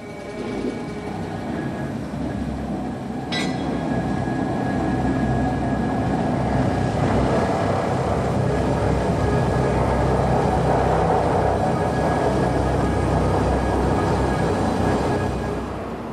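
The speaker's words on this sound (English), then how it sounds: "This revolutionary train propulsion system is called Maglev, short for magnetic levitation." Maglev magnetic levitation train passing with a loud, continuous rushing roar and a sharp brief click early on, sustained throughout with no talking.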